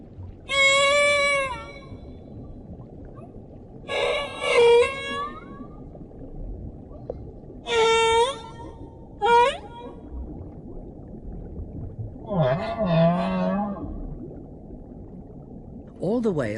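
A humpback whale singing in the deep ocean, with separate moaning, whooping and squealing phrases at a moderate distance over a steady low underwater rumble. Each call rises and falls in pitch.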